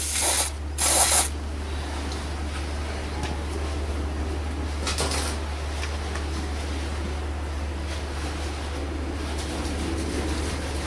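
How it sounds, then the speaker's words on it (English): Carburetor cleaner hisses from an aerosol can onto a Volvo XC throttle body in two sharp sprays, a short double burst at the start and a briefer one midway, over a constant low mechanical hum. "Nevertheless, I'm gonna use some carburetor cleaner."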